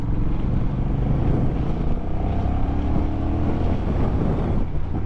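A 2021 Honda Rebel 1100 motorcycle being ridden: a steady engine drone heard loud and continuous, mixed with heavy wind rush and no talking.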